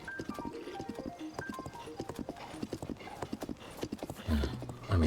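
Horse hooves clip-clopping in a rapid, uneven rhythm in a video game, with brief neighing, close and clear, ending in a louder low thump.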